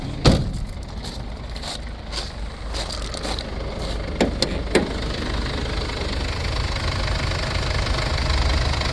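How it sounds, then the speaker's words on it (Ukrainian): A 2021 Mercedes-Benz Sprinter van engine with 171,000 km idles steadily with a low, even rumble and light rhythmic knocking, with a few sharp clicks near the start. "Двигунчик працює просто ідеально."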